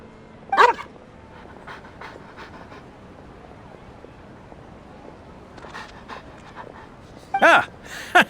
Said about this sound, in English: What a well-behaved doggy.